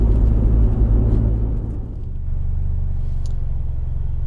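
A Mitsubishi Evo X MR with an SST dual-clutch gearbox and slipping clutches drives along, its engine making a steady loud rumble that dips briefly before settling into an even drone.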